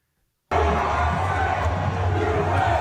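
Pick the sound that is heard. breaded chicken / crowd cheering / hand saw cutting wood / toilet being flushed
crowd cheering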